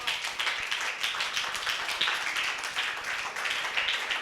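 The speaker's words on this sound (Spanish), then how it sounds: "¿Alguien puede regalarle un aplauso a Jesucristo?" A church congregation claps together in sustained, dense applause, a continuous roomful of hand claps at steady loudness, with no voices standing out.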